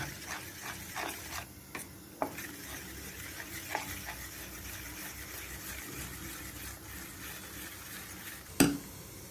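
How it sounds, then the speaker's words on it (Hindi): Besan dhokla batter being stirred after baking powder and baking soda go in, with soft scraping strokes against the bowl and a few sharper clicks, one louder knock near the end, and no voices. "वह बैटर में डालेंगे और अच्छी तरह एक ही डायरेक्शन में मिलाएंगे"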